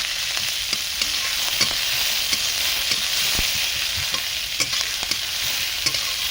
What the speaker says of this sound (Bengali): ভালো করে পেঁয়াজ এবং লঙ্কাগুলো ভালো করে ভেজে নেব